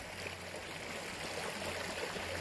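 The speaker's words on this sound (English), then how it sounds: "a rare stream." Flowing creek water at Weber Creek in Arizona, a soft continuous rushing hiss that stays steady and faint, heard alone outdoors.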